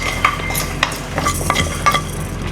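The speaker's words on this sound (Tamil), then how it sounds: "கடுகு அந்த பொரியுதா?" Mustard seeds splutter in hot oil for a fish curry, giving scattered sharp pops and crackles over a low sizzle, close up.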